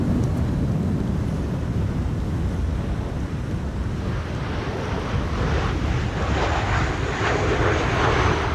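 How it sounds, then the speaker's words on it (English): An Embraer airliner on a go-around at Schiphol during a westerly storm roars overhead, its jet engine noise swelling over heavy wind buffeting the microphone, with no talk. "there's a go-around Embraer on their way to runway 27"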